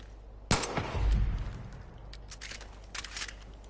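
Heavy machine gun fire in the shooter game Far Cry 5: a loud burst of rapid gunfire with a booming low thud, followed by scattered fainter shots and crackle in the background, no talk.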